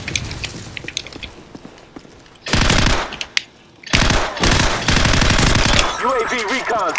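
MP5 submachine gun fire in Call of Duty 4 comes in rapid bursts, starting with faint quieter shots, then two loud sustained volleys split by a brief pause, with a voice talking over the end.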